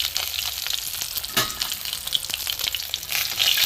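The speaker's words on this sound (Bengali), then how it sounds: "মাছ ভাজা হয়ে গেছে, আমি তুলে নেবো" Pieces of rohu fish frying in hot oil in a pan, with a steady close crackling sizzle, a few louder pops and spits, and no voices.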